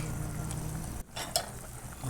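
Malunggay leaves are stirred into a simmering sardine, kadyos and papaya soup in a pot, giving a soft bubbling simmer with a brief scrape of the spoon, fairly quiet.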